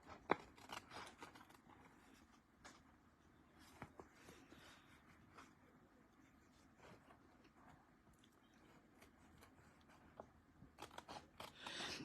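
Scissors trim from the back of a craft piece in faint, repeated snips and soft rustles spread across several seconds, with a few sharper cuts near the end.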